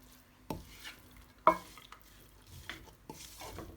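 Boiled chicken, torn by hand into small pieces, being stirred into masala: soft, scattered scrapes and clinks of a utensil against the pan, a few sharper knocks spaced apart, fairly quiet with no talking.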